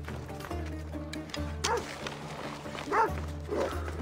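A dog barks and yelps in Assassin's Creed Odyssey, several sharp barks with whimpering, set against a low droning game soundtrack, and a voice talks faintly underneath.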